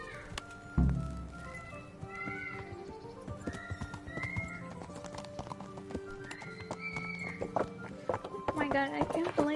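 Steady clip-clop of horse hooves in Kingdom Come: Deliverance, with a horse whinnying and soft music and background noise underneath.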